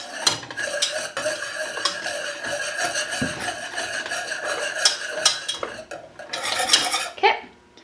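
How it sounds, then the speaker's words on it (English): A metal whisk stirs gravy in a pan without pause, a busy run of rapid scraping and clinking against the pan, close and fairly loud, with no one speaking. "So we're going to whisk it, stirring constantly until it thickens up."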